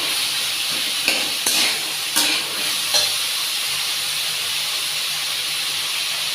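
Sliced onion dropped into hot oil in a pan, a loud continuous hissing fry with a few brief clatters of stirring early on, close by and without any talking.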